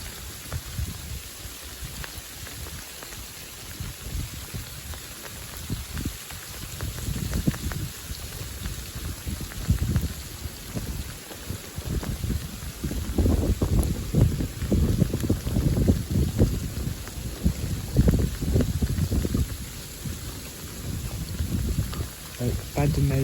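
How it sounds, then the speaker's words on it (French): Hail pounds down hard during a February storm, a dense rushing clatter that swells louder midway and stays heavy, with wind buffeting the microphone. "Ah, ça tombe fort là. Ah, ça saute, c'est de la grêle."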